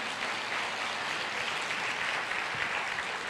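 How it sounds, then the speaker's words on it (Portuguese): Audience applause at a church family conference, a steady broadband clapping that holds evenly for the full few seconds, fairly close and filling the room with no voices over it. "Pode aplaudir o Senhor."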